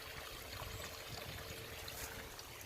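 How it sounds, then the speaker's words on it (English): A steady, soft wash of trickling water, continuous and fairly quiet, like a small brook running nearby with no voices. "You can hear the trickling sounds of the brook."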